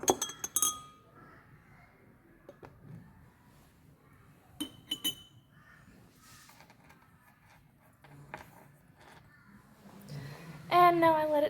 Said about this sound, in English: I need to mix down the bottom so that tenderizer will dissolve